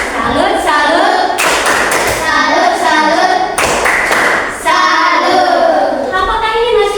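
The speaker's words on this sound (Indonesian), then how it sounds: "tepuk salut untuk Kristen" Hands clapping a salute for a student in a classroom lesson, a series of sharp rhythmic claps in bursts with children's voices chanting along between them.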